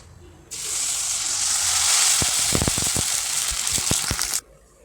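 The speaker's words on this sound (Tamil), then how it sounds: "இப்போ நம்ம இதை பொறிச்சு எடுக்கிறோம் பாருங்கள் நல்லா பொறிஞ்சு வருது" Sago and carrot vadam hit hot oil and burst into a loud, close sizzle that holds for about four seconds, peppered with sharp popping crackles, then cuts off abruptly.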